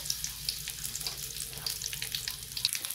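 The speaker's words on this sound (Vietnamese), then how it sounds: "Rồi bây giờ mình sẽ thả củ sắn vô mình chiên." Jicama pieces frying in hot oil, a steady close sizzle with crackling pops all through, no talking.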